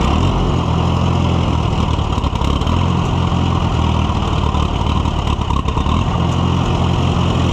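A vintage Case tractor engine runs loud and steady after firing up, a rough continuous chugging drone heard close with no talk over it.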